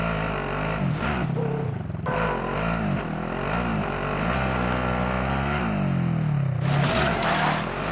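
A vehicle driven in the battle royale game Call of Duty Warzone, its engine droning steadily and rising and falling in pitch as it revs and shifts, loud and continuous throughout.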